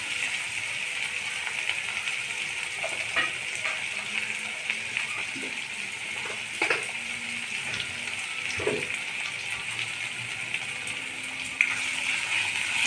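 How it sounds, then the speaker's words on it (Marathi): Garlic sautéing in a pan over a high gas flame gives a steady, close sizzle and crackle, with a few soft stirring knocks scattered through. No one speaks. "लसूण, हे छान असं आपण परतून घेऊया।"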